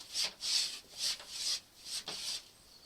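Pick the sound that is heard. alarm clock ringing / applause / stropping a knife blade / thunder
stropping a knife blade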